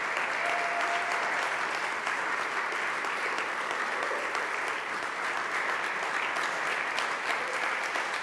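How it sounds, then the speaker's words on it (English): Concert audience applauding at the close of a praise evening, a dense, sustained wash of clapping from a large crowd, loud and even throughout with a faint tone early on. "let's give a big round of applause to everyone who's been involved this evening"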